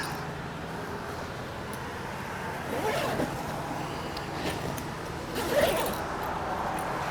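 Sturdy zipper on a Kulkyne canvas swag being pulled open, giving a couple of short rasping zips over a steady low background hum.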